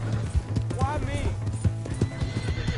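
A horse in a video game clip-clops along with rapid hoofbeats and gives a loud whinnying neigh, while voices talk over the scene.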